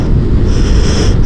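Strong wind buffeting the microphone in a dense low rumble beside a Honda CB750 motorcycle, loud and continuous throughout the short stretch.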